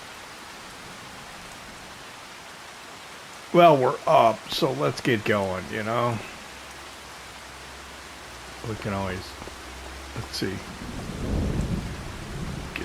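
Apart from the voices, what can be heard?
rain and thunder in video game Farming Simulator 25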